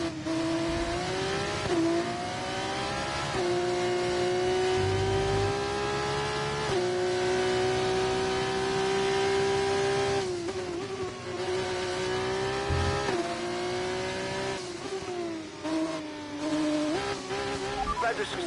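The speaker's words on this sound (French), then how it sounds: "Alors profitons-en pour faire un tour rapide." An F1 car on a fast lap in the video game F1 24, its high engine whine climbing through repeated upshifts and dropping on downshifts, loud and continuous with faint tire noise and occasional talk over it.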